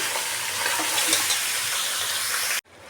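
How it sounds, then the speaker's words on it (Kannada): Mutton fries and sizzles in a pan while being stirred, a loud, bright hiss with faint scraping that cuts off abruptly near the end. "ಇವಾಗ ಮಟನ್ ಫ್ರೈ ಆಗ್ತಾಯಿದೆ."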